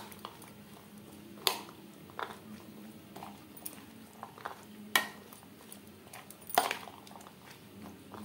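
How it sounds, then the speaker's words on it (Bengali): Spoon clinks and scrapes against a bowl as papdi chaat ingredients are mixed, a few sharp knocks spaced among quieter stirring sounds, close and moderately soft. "সমস্ত উপকরণ বেশ ভালো করে মিক্সড করে দেব।"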